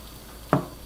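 Spatula scraping and nudging a small egg in a frying pan, with a faint steady sizzle underneath and one sharp scrape as the flip is attempted near the middle.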